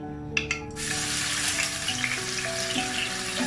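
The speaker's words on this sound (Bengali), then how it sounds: "দিয়ে দিচ্ছি পেঁয়াজ বাটা 1/2 কাপের মতো," Onion paste hits overheated oil in a wok. After a couple of light clinks, a loud, steady frying sizzle bursts up and continues, close and with no voices.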